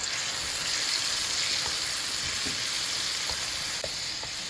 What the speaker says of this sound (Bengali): এখন আমি সিসিঙ্গাগুলো ঢেলে দেবো পাইনের মধ্যে